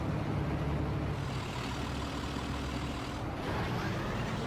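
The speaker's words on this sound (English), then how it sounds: "this bus really does sound like a Max Force in my opinion" A heavy diesel engine of a 2005 IC CE300 bus idles steadily with a deep low rumble, continuous and fairly loud throughout, with no voices.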